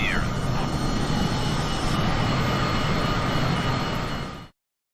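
A Cessna's engine drones steadily and loudly in Flight Simulator 2020, a continuous propeller hum that holds for about four and a half seconds and then cuts off abruptly.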